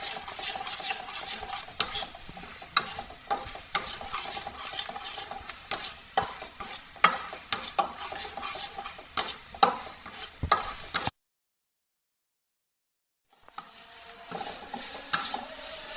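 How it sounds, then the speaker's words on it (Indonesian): Spice paste for Bangka fish curry fries and is stirred in a pan, giving steady sizzling with repeated sharp scraping and clinking strokes. A brief silence falls, then the frying resumes, with no voices. "Bumbu yang saya goreng ini udah mengeluarkan aroma yang harum."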